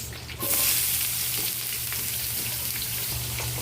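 Ginger and onion hit hot oil with a sudden loud sizzle that settles into steady, close sautéing and crackling.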